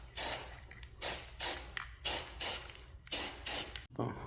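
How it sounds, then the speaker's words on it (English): A spray can lays primer coats onto catfish fishing rods being made glow-in-the-dark in about seven short, even hissing bursts, close and regularly spaced, followed by a faint rattle. "And just a couple sprays."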